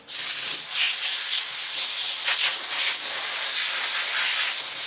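Compressed air blasts steadily onto a snowboard during a repair to dry it, a loud, close, continuous hiss that starts abruptly and holds for several seconds.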